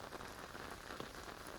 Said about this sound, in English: The rain looks like it is easing for the evening.